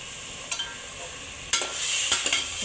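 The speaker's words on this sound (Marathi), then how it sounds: "ह्याच्यातच वाटाणा टाकून घ्यायचा. फ्रेश ताजा ताजा वाटाणा घेतलेला आहे." Fresh green peas fry in hot oil for pea rice, with a soft steady sizzle broken by a few brief scraping stirs and clatters, no voices.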